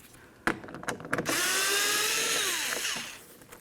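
A ratchet clicks a few times, then a power tool whirs steadily for about two seconds and winds down, backing out a single 10mm mounting bolt on a 2004-2015 Nissan Titan driver's side mirror; close and loud.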